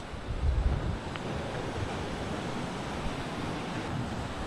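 Ocean waves and wind on an exposed beach, a steady broadband roar of surf with wind buffeting the microphone, loud and continuous with no talking.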